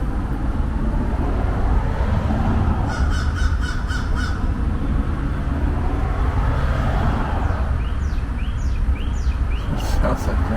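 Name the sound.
bird calling, sounding like 'super beats'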